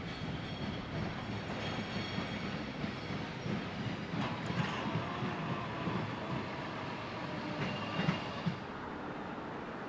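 A loaded molten steel train rolls past on a short stretch of former Panhandle track linking IHB and CSX rails near Chicago, a steady low rumble with rhythmic wheel clatter and faint metallic squeals.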